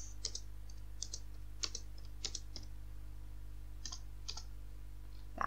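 Typing on a computer keyboard: soft, scattered keystroke clicks in small bursts over a faint steady electrical hum, close and quiet with no talking.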